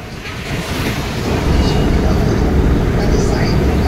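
Sea waves at Marina Beach in Chennai roll in as a loud, steady wash of surf mixed with wind buffeting the microphone, building slightly and holding without a break.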